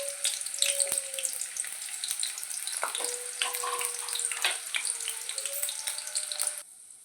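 Onions and green chillies sizzle steadily in hot oil for an egg tomato curry, with a close, bright crackle and scattered pops. Faint stirring clicks sit under the frying, which drops away at the very end.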